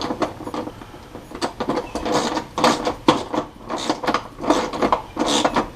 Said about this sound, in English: just tighten these 4 bolts up, and then we'll hook the wire